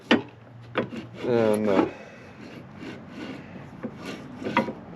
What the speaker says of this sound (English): I'm just going to chamfer this edge here a little bit.